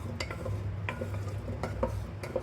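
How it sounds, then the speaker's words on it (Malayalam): Beef being stirred in a pan, with utensil scrapes and clinks over a steady low sizzle, several distinct stirring strokes close by. "നമ്മളൊരു റെഡിഷ് കളർ ആവുന്നത് വരെ നമ്മളിത് ഇളക്കി കൊടുക്കണം."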